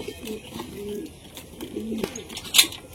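Pigeons coo in low, rolling murmurs as they are given water, with a sharp tap near the end.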